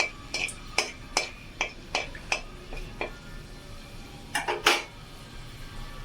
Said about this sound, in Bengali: শুকনো লঙ্কা, তেজপাতা, এলাচ, লবঙ্গগুলো দিয়ে ভালো করে নাড়িয়ে